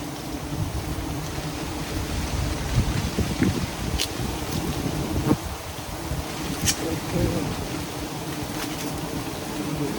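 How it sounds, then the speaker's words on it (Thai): Strong wind buffets the microphone in a steady, loud roar with rustling, outdoors during a giant honeybee hive harvest, with faint voices and a few brief clicks. "ลมแรงด้วยนะครับ"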